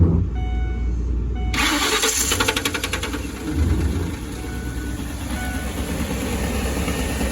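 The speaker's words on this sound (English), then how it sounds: "Let's go start this engine." A camper van engine cranks and catches at about one and a half seconds, then settles into a loud, steady running rumble close by.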